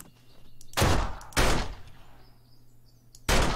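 Three loud, close gunshots at a feral zombie in the video game 7 Days to Die, each a sharp blast with a short decaying tail, spaced about a second or more apart over a quiet ambient hum.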